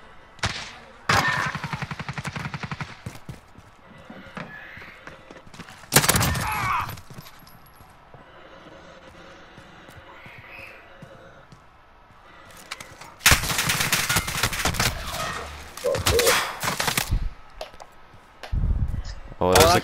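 Carbine fire in a Call of Duty: Modern Warfare match comes in loud, rapid automatic bursts, several separate volleys crackling close by between quieter stretches of ambient battle noise, with voices talking through it.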